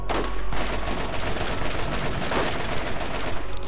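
Rapid, dense automatic gunfire from a Borderlands co-op shootout against bandits, a continuous rattling barrage at steady loudness with no clear gaps, dominating the mix without audible speech.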